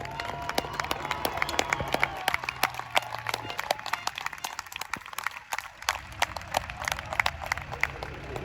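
A crowd applauds steadily at a European Championship autocross event at Saint-Igny-de-Vers, dense clapping from a large audience with a faint cheer early on, continuing throughout.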